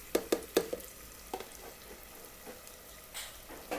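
Cooked tomatoes tipped into a hot pan for a white bean stew, a few sharp clatters followed by a soft, quiet sizzle and occasional stirring scrapes.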